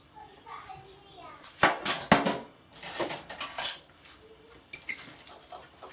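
Tandoori chicken marinade with grated ingredients, garlic and lemon juice being mixed in a bowl, giving loud irregular clatters and scrapes of utensil against dish, with faint voices and household noise behind.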